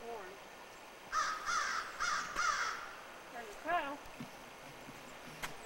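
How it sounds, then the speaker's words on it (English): Several crows caw outdoors on a hiking trail at Mohican, a cluster of three harsh calls followed by a lone caw, moderately near over faint background talk and wind. "we've seen and heard plenty of crows"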